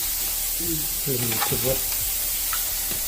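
A steady, close sizzle of vegetables and spices sautéing in a pan for vegetable masala runs throughout, with a voice speaking briefly over it.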